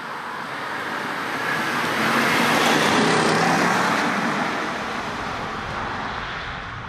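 Steady, loud road and wind roar inside a 25-year-old Jaguar cruising at 60 mph, a continuous broadband hum that swells slightly mid-way and then eases, with no one talking.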